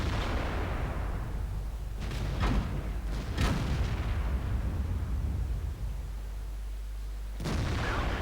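Heavy tank cannon fire from an IS-7 in World of Tanks, a few sharp distant booms spaced seconds apart over a low, steady rumble of the game's battle ambience.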